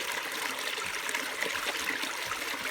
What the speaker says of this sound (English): Looks like I've got a river crossing.